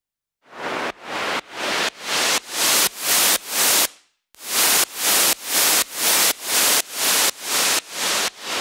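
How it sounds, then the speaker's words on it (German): Soloed white noise pumps under a sidechain effect in steady quarter-note pulses, each burst swelling quickly and then cutting off. A brief break falls near the middle before the rhythmic hiss resumes. It is loud and heard alone. "Du hast diesen coolen Sidechain-Effekt, kannst das natürlich auch auf jedem anderen Signal benutzen"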